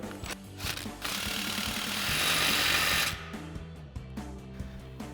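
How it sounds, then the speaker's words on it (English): A 15mm socket on a ratchet or impact tool tightens the exhaust tip clamp on a Silverado 1500 exhaust, giving a steady mechanical whirring buzz up close that lasts a couple of seconds, framed by quick clicking. "we'll go ahead and tighten that down with our 15mm socket"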